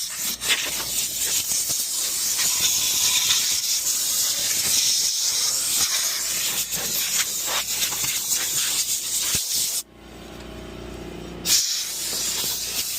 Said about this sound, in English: So now we're using an air compressor. We're blowing all the dirt and debris to the front.